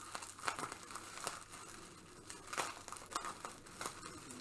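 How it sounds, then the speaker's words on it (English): Mail package and packing tape being cut and pulled away, a close, fairly quiet run of crinkling, tearing and rustling with small sharp bursts and no talking. "Let me get this package and this tape cut out of the way."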